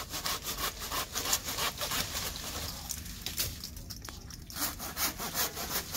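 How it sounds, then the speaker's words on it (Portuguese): A new, unset hand saw rasps through a lemon tree branch in quick, rhythmic back-and-forth strokes, close and loud, with a short pause midway before sawing resumes. "Eu estava serrando aqui esse galho"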